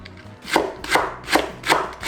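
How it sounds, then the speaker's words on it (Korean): A knife slicing garlic on a cutting board, four evenly spaced, crisp chopping strokes about every 0.4 seconds, close and alone. "송송 썰어줄게요."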